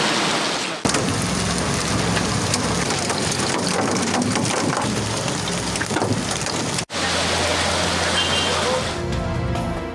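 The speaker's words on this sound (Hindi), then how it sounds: "इस्लामाबाद, मानसहरा और एबटाबाद में बादल खूब बरसे" Heavy rain falling in Islamabad, Mansehra and Abbottabad, a dense, loud, continuous hiss of downpour with a brief cut partway through, with a voice talking over it.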